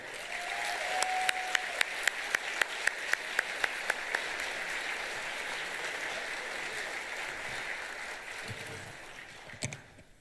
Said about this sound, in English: Let's receive him now as he comes with a warm welcoming of applause.